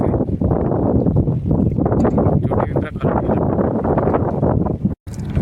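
Loud, steady wind roars and buffets the microphone, a dense rumble that barely lets up before a brief cutoff near the end.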